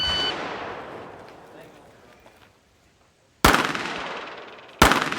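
Gunshots ring out during firearms vehicle tactics training. A sharp blast decays over about two seconds, then after a pause two more loud, close cracks follow roughly a second apart.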